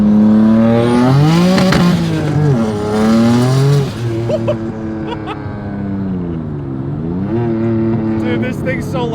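The turbocharged 3.2L Honda J32 V6 in a swapped Civic hatch runs loud and close, rising and falling in rapid revving sweeps with a raspy, whining edge.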